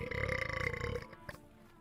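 A single close, loud burp with a rumbling, croaky tone lasting about a second, then trailing off into quiet.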